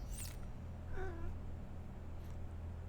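Pet cat Gila gives a single drawn-out meow near the middle, close and fairly clear over a steady low background hum, with a brief higher squeak at the start.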